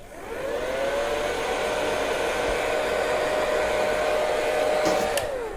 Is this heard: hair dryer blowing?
yes